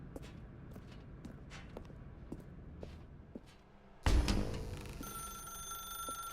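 In The Stanley Parable video game, footsteps tap through a room before a telephone suddenly starts ringing loudly and continuously in the second half.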